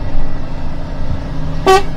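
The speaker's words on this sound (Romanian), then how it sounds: "Hai să dăm un claxon" One short, loud truck horn blast near the end, over a low rumbling engine idle, in Italy.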